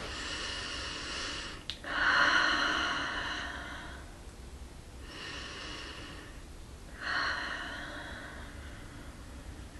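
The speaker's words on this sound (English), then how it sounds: "just concentrate there and take some deep breaths" Three slow, deep breaths, each a soft airy rush of inhaling or exhaling spaced a few seconds apart, close and quiet over faint background hiss.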